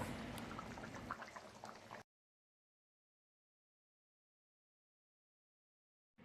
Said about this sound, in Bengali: এই যে মাংস রান্না করছি তো রান্না হয়ে গেছে যে মানে ঝোলটা ফুটছে